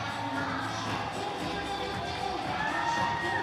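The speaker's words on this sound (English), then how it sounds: "Well, the crowd is not leaving. They're on their feet." Baseball crowd in a Brisbane Bandits versus Auckland Tuatara ABL game, on its feet and cheering: a dense, steady roar of many voices filling the whole stretch, with no single voice standing out.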